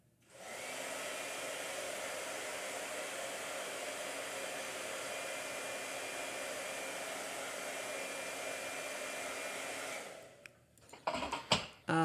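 A blow dryer runs loud and steady for about ten seconds at an artist's painting session, then cuts off, followed by a few brief clatters.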